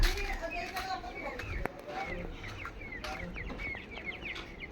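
Chickens cluck and chatter in a sheeted coop with a door, a busy flurry of short repeated calls close by, with a person talking over them.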